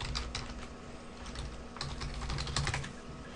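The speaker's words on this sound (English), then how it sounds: "Oh, I typed that wrong." Quick bursts of typing on a computer keyboard while someone brings up a photo-sharing website, the keystrokes clustered in short uneven runs over a steady low hum, with no talking.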